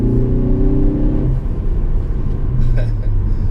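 Engine and road rumble from a 2016 Ford Focus ST with 18-inch wheels while driving, a steady loud drone that shifts pitch partway through, with a voice talking over it.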